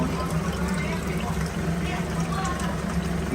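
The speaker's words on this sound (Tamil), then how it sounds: "அரைச்சி வச்ச புளியை அழகாக கொட்டை இல்லாமல் வடிகட்டணும்." Ground tamarind paste, homegrown country tamarind, runs through a strainer as a steady close watery trickle and splash, continuous and fairly loud throughout.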